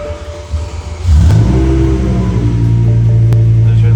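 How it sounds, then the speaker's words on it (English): A BMW E60 M5 with its V10 engine, still on a reasonably quiet exhaust, cranks and fires up with a sudden loud rumble around one second in, settling into a steady, throaty idle. "There's your last startup as a reasonably quiet M5"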